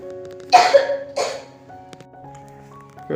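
A child coughs twice in quick succession, fairly close and sharp, followed by a quiet room with faint background hum.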